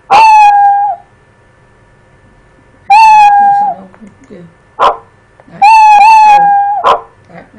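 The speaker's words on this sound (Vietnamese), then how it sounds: "Mèo sẽ là tiếng kêu meo meo." A cartoon cat meow effect from a Scratch project plays three times, each a bright, tonal meow with a short click between repeats. It sounds loud and close, with faint room noise underneath.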